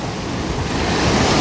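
Steady rushing wind mixed with broad surf noise from the sea at Odesa under rain clouds, a continuous outdoor roar with no pauses.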